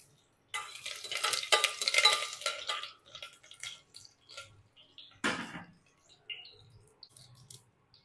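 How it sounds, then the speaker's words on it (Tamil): Mustard seeds, urad dal and curry leaves spluttering in hot oil, a burst of dense crackling and popping that settles into scattered pops, with one more sharp crackle flare near the end. "எண்ணெய் சூடான உடனே இந்த கடுகு, உளுந்து, கருவேப்பிலை இதை போட்டுடணுங்க."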